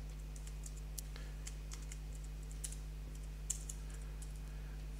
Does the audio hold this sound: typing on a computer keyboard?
yes